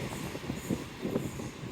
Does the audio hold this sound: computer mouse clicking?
no